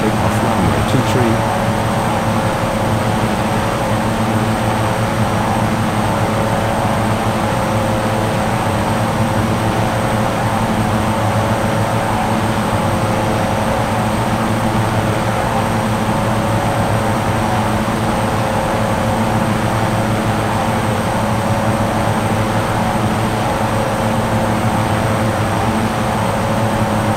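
A jet airliner rolls for takeoff down the runway in the Unmatched Air Traffic Control video game, a loud, continuous engine roar with a steady tonal whine that holds unbroken for nearly half a minute.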